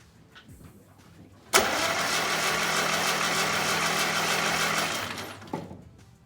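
An M151A2 military jeep engine, due for a valve adjustment, cranks and catches: a sudden loud start, then a steady rough mechanical roar held for several seconds before cutting off abruptly, close by with no talking.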